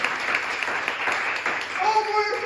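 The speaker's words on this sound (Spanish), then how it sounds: "Denle un aplauso a Jesucristo." A church congregation claps during a lively Spanish-language sermon, brief crowd applause mixed with shouted voices and an emerging tone, moderately loud and close for a couple of seconds.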